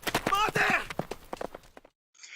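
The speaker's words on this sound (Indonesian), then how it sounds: "sang kuda pun berhasil meloloskan diri berlari ke arah di mana perang berlangsung" A horse gallops toward a battlefield, its hooves making rapid, rhythmic clip-clop beats that fade out near the end, with a voice speaking over the opening.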